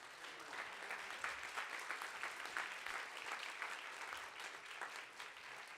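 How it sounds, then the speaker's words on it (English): An audience claps for student performers at a high school band and orchestra fall concert, steady continuous applause from a large group in a hall, soft and somewhat distant. "Let's clap for them."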